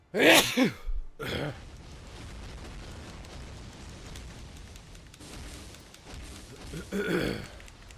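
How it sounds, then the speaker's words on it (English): A single sharp sneeze from a person with a stuffy nose, loud and close, then a second burst about a second later, with a softer throat noise near the end over faint room hiss. "I'm going to be sneezing for a while"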